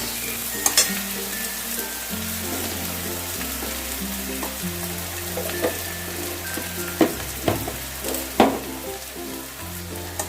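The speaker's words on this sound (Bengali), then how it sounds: "পেঁয়াজটা একটু ভাজা হয়েছে খুব বেশি ভাজবো না" Steady, close sizzling of a medium onion frying in a pan, with a low hum underneath and a few spoon scrapes and clicks while stirring.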